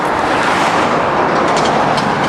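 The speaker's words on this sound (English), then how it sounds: "Walking into the street as these cars are coming." Cars passing along a residential street, a continuous broadband roadway rush that stays loud and close throughout without any break or talking.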